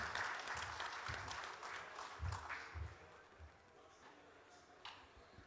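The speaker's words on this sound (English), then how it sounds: "With a huge round of applause, ladies and gentlemen." Audience applause at a steel and roofing industry conference as a keynote speaker is welcomed, a sustained wash of clapping from a crowd that gradually thins out, with some murmuring underneath.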